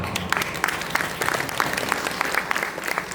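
An audience at an Arya Samaj women's empowerment conference in Raxaul claps steadily, a dense close round of applause with no pause.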